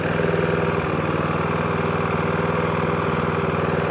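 A Briggs and Stratton lawn mower engine idles after a hunting and surging fix, running at a steady, even chug close by with a brief dip near the start, loud and alone with no talk.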